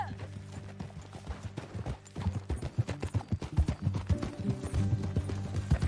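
Horse hooves clip-clopping at a steady ride in Red Dead Redemption 2, a continuous rhythmic drumming of hoofbeats under a low musical drone, growing louder and busier toward the end.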